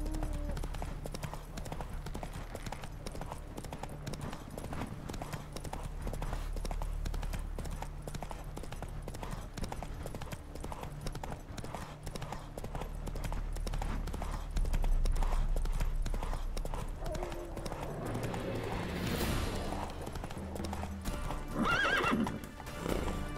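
A horse in the video game The Witcher 3 gallops in a fast, steady clip-clop rhythm throughout, with a whinny and a burst of clatter near the end over a low background ambience.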